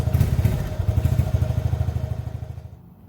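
A Honda ATC 70 three-wheeler engine runs with the choke on, giving a loud, close, rapid putt-putt idle that wavers slightly and then fades toward the end.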